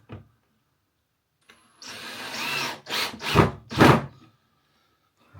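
A power drill drives screws to fix parts onto a board during van electrics work, with a few close, loud whirring bursts of varying length after a short quiet start.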